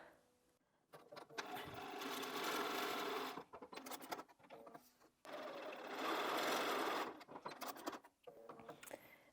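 A sewing machine stitches a quilt strip set for a beginner jelly roll block, whirring in two sustained runs with short pauses and clicks between them.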